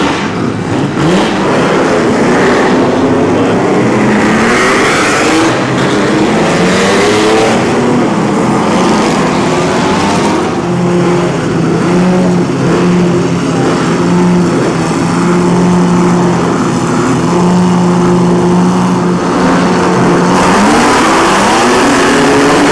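Historic racing cars rev and roar on the warm-up lap of the 2008 Monaco Grand Prix Historique, several engines blaring loudly and continuously with rising and falling pitch as they accelerate nearby.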